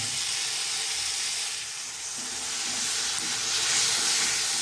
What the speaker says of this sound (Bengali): আলুটা দিয়ে সুন্দর কষিয়ে নেবো